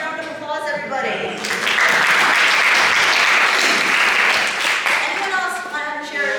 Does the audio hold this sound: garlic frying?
no